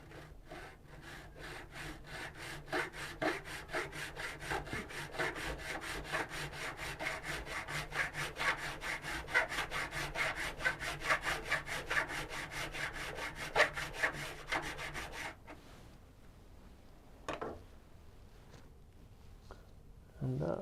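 A metal file strokes along a card scraper clamped in a vise, giving quick rhythmic rasping passes, close and steady for about fifteen seconds, then stopping, followed by a couple of light knocks and handling sounds.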